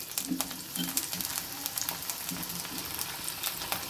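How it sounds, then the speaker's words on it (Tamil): Finely cut brinjal sautés in a pan for Chidambaram gosthu, giving a soft, low-level crackling sizzle broken by light spatula taps and stirring clicks; no voices. "இந்த கத்திரிக்காவை நல்லா வதக்கிக்கணும்"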